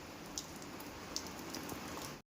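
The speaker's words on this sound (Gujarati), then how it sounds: "અહીંયા આવો ધોધમાર વરસાદ પડે છે" Heavy monsoon rain pours steadily in a continuous soft hiss, with a few louder drops standing out now and then.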